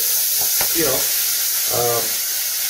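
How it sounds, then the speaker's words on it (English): Onion sautéing in a pot for smoked turkey neck and pinto bean soup: a steady broad sizzle close by, with a couple of brief stirring scrapes and a faint voice under it. "this onion in there. I'm just going to saute it just a little bit"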